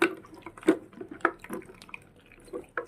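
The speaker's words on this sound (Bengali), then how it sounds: "এদিকে মেয়ের জন্য দুধের বোতলগুলোও ধুয়ে নেবো।" Baby milk bottles washed under running water at a kitchen sink, with irregular close splashes and drips from the tap and no speech.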